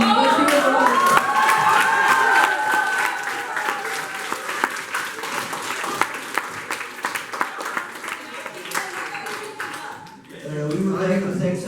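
An audience at a TEDx event stage fills the room with sustained applause and cheering, dense clapping that runs strong for about ten seconds, briefly dips, then swells again.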